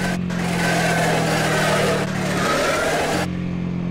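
A Honda ADV 150 scooter engine revs hard at full throttle, a loud, close, continuous droning roar that dips briefly in pitch before climbing again.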